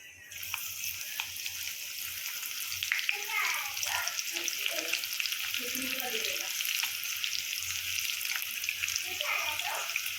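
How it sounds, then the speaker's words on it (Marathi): Garlic sizzles in hot oil with bay leaf and cinnamon in a home kitchen pan: a steady, bright frying crackle runs throughout at close range, with a faint voice surfacing briefly in the background. "आता लसूण टाकूया."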